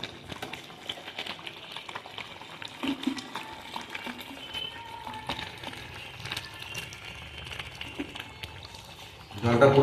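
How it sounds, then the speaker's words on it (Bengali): Water goes into a pot of kacchi chicken kosha curry on the stove. A soft, crackling sizzle of liquid runs throughout with scattered clicks, and a louder splash of pouring comes at the end. "জল দিয়ে দিই,"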